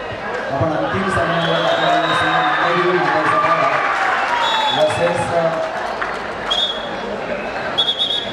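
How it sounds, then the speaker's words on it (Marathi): Supporters at a girls' kabaddi semi-final applaud and cheer, a steady crowd roar with clapping and occasional whistles heard under ongoing commentary. "व्यासपीठामध्ये सुद्धा टाळ्या झालेल्या आहेत. जल्लोष झालेला आहे."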